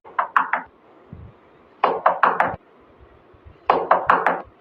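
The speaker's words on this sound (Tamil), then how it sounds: "நம்ம ரூம் கதவை தான் மாமா யாரும் தட்டுறாங்க" Someone knocks on a room door in three distinct bursts of three or four quick, sharp raps, evenly spaced with short silences between, loud and close.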